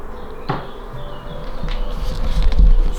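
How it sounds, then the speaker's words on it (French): Wasps buzzing inside an abandoned manor, a steady low droning hum close by with a sharp knock near the start and a rumble growing toward the end. "Il y a des guêpes, on en voit plein là-bas, on les entend."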